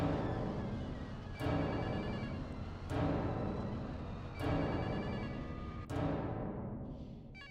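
A telephone bell rings in a game trailer, with four loud, evenly spaced rings about every one and a half seconds over a dense, busy background of music and effects.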